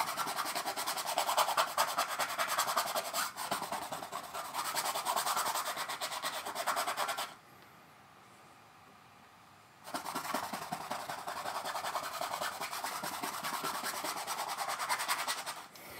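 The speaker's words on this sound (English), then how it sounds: "Scrubbing away." A brush scrubs paint onto paper while a seascape is painted, making close, steady rasping strokes that stop for about two seconds midway, then resume just as before.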